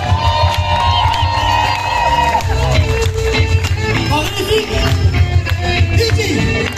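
An outdoor Fête de la Musique concert crowd cheers and shouts while music plays, with lively voices, whoops and some clapping mixed over sustained instrumental tones and singing.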